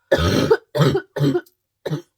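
Four harsh coughs in quick succession, close and loud, with brief silent gaps between them and no talking.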